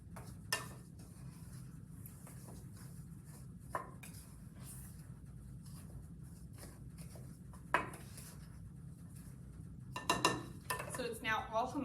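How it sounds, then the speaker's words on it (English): Dry carpet shampoo powder is stirred with a few drops of essential oil in a container, giving quiet scraping and clinking of a utensil against the vessel, with sharper knocks at intervals and a busier clatter toward the end. "you just want to mix until it's well blended."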